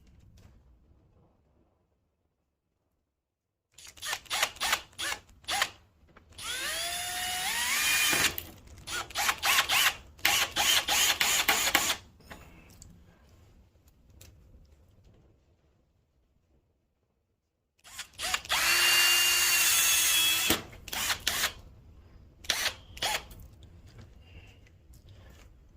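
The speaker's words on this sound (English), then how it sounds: "We'll insert the sheetrock screws." A power drill driving sheetrock screws into a wall, several short whirring bursts and two longer sustained runs with rising pitch as the screws bite, separated by quiet gaps.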